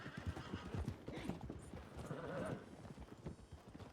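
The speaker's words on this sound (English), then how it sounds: "Your fucking horse again." Horse hooves clip-clop in a steady trotting rhythm in the Western game Red Dead (WildRP), with a whinny mixed in, fairly close and moderately loud with no talk over it.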